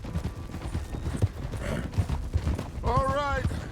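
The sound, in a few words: horse hooves trotting in the video game Red Dead Redemption 2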